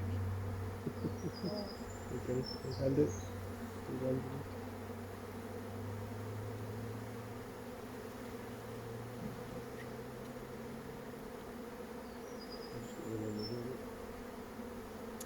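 Honeybees droning steadily around an open hive at a Scottish bee school, a continuous close buzz with brief nearer passes of individual bees, while people speak a few quiet words early on.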